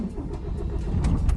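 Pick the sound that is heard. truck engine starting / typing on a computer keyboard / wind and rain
truck engine starting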